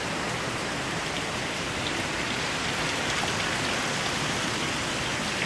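Heavy rain pours down steadily during a thunderstorm, a dense, even hiss of drops on surfaces that fills the whole stretch without pause or voices.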